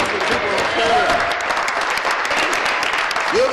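Applause rolls through the Ontario legislature chamber during question period, a sustained patter of many hands clapping at once, with voices mixed in underneath.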